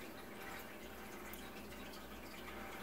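Water pours into a pan of butter and onions set on low heat, making a steady, close hiss and splash that runs the whole time with no talk.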